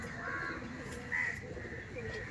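Madras pigeons coo softly in the background at a pigeon sale, a faint, distant cooing with a brief brighter call, while people talk quietly nearby.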